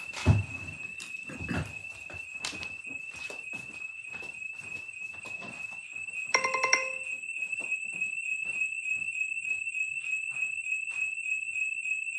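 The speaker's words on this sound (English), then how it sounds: "My alarm is going off." An alarm sounds indoors as a steady, high electronic tone that keeps ringing throughout, with a few thumps and knocks early on and a brief louder burst partway through.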